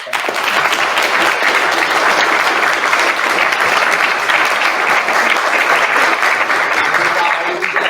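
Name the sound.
audience applause after a speech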